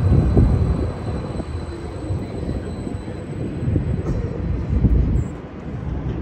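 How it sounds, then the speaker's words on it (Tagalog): A train rumbles past at a station in Canada, a steady low rolling roar with faint high squeal, moderately close and continuous throughout. "Ayan, may train na naman."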